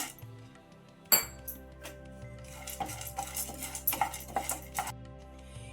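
Fenugreek and roasted gram dry roasting in a pan, heard as a quiet run of stirring scrapes and metallic clinks of a spoon against the pan, with a sharp knock near the start.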